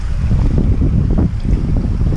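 Heavy wind roars and buffets against the microphone, a constant low rumble with gusty surges and no voices.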